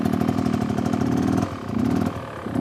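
Motorcycle engine revving during obstacle riding practice, a close rhythmic mid-pitched putter that rises, dips briefly, then swells again.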